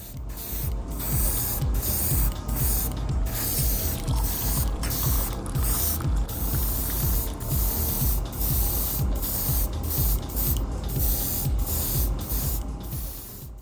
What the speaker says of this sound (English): Spraying applying at a distance and not too heavy a wet coat